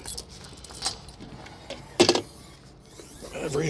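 A set of original car keys jangles in several bursts, a bright metallic clinking close by, with one sharper cluster of rattles midway and quieter handling noise between.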